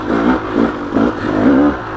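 A KTM 300XC dirt bike engine lugs along in second gear, its loud, close two-stroke drone rising and falling in repeated low surges, with no voices over it.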